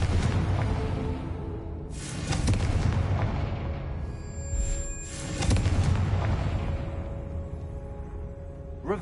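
Confringo spell blasts in the Hogwarts Legacy video game land as several heavy booming explosions, with sharp bursts near the two- and five-second marks and a rumbling backdrop between them.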